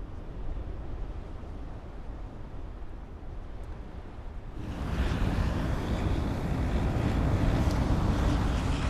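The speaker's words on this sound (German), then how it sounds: "Es ist plötzlich kalt geworden, der Wind frischt auf" Strong wind gusting across open moorland in the Hohe Rhön highlands as the weather turns cold, a steady broadband roar that suddenly grows louder and fuller about halfway through, with no voices.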